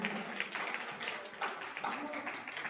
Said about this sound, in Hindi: एक बार फिर जोरदार तालियों के माध्यम से बच्चों का स्वागत करते हैं